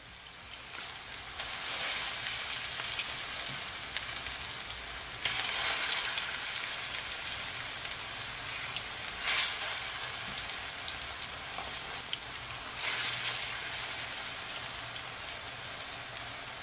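Plantains fry in a pan on a stove over moderate heat, giving a steady, close hiss and crackle of sizzling oil with brief louder bursts, continuous throughout and with no talking.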